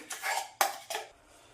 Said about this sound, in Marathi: त्यामध्ये आपण ही जी पेस्ट केलेली आहे ती पेस्ट घालून घेऊ